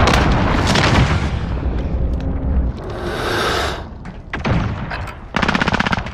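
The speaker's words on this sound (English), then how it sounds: "Allied cruise missile away." Call of Duty Modern Warfare battle during an allied cruise missile strike, with loud continuous rumbling explosions and dense gunfire filling the whole stretch, alone without speech.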